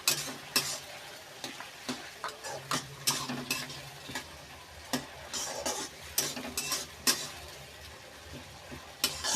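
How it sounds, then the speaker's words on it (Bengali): Chicken with tomato paste is stirred in a hot pan for a palak chicken dish, a utensil scraping and clinking in irregular strokes over a low sizzle, close and clear with no talking. "টমেটো পেস্ট দিয়ে দিলাম, দিয়ে এটাকে ভালো করে মিক্সড করে নেব।"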